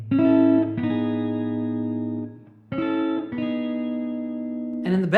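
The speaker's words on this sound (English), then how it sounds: "There's, of course, the famous lead guitar." Clean lead electric guitar plays a slow, sustained melody, long ringing notes with reverb and a soft bass drone beneath, alone and up close.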